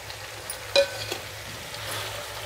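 Capsicum pieces being mixed into chicken fry in a pan, a soft low sizzle with a single sharp spoon clink early on and faint stirring scrapes.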